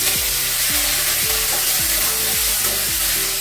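Garlic and a broken green chili sauté in hot oil with a loud, dense, steady sizzle, close up, with a repeating tonal pattern running underneath.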